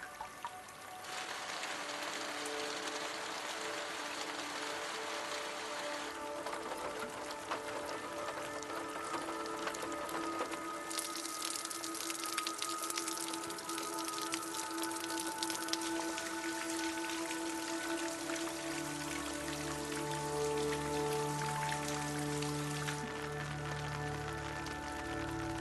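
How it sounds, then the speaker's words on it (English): Steady rain falls for a long stretch, a dense patter of drops on surfaces with trickling water, fairly quiet and constant with no voices. "Rainfall"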